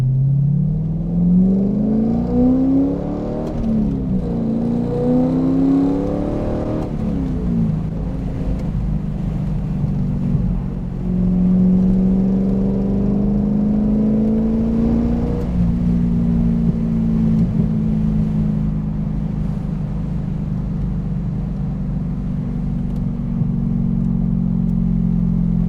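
Chevrolet Corvette C5 Z06 engine pulling hard in second gear, a loud, close, continuous rumble that rises in pitch through several revving surges, with no voices.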